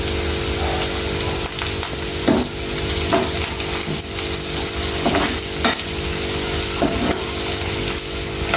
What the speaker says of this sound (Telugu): మంచిగా ఇట్లా ఫ్రై చేసుకోవాలి ఉల్లిపాయలు ఇప్పుడు కొంచెం కొత్తిమీర పుదీనా వేసేద్దాం